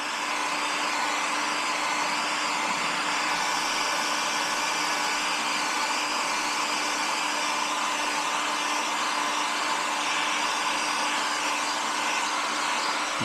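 A heat gun set to about half its temperature range blows steadily on heat-reactive paint for a Zip 180cc scooter project, a continuous close airy roar with a faint motor whine and no talking.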